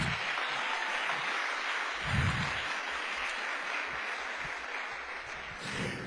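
A church congregation applauding with dense, sustained clapping throughout, a steady wash of hands with no voices standing out.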